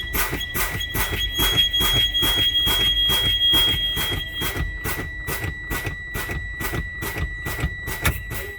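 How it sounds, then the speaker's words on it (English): A Class B truck's low air pressure warning buzzer sounds as a steady, rapid series of regular electronic beeps, about two per second, over a low engine rumble. "My low air pressure buzzer and indicator came on."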